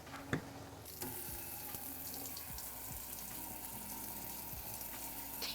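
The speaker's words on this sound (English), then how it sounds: "Actually, I should fill my water up." Water runs from a kitchen tap into a drinking glass, a continuous hissing splash that starts with a click and holds steady, with a couple of soft knocks at the start and end.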